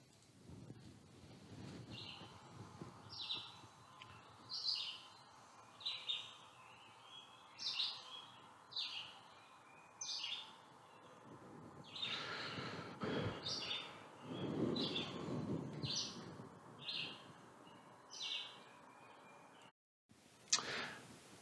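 A red-eyed vireo sings short, repeated phrases at a steady pace, faint and distant, over a low outdoor background with a brief louder disturbance midway.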